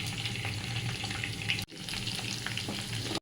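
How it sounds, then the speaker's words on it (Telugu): Onions frying in hot oil in a pan, a dense, continuous crackling sizzle close to the microphone, cut briefly by a sudden drop before the frying noise resumes at the same level, with no voices. "అదే ఆయిల్ తీసుకొని ప్యాన్లో హీట్ అయ్యాక దీంట్లోనే ఆనియన్స్ వేస్తున్నాడు."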